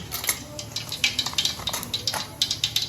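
Mustard seeds dropped into hot oil to test the heat before tempering, crackling as sharp little pops and clinks over a background sizzle, close up, with faint pan and utensil noises.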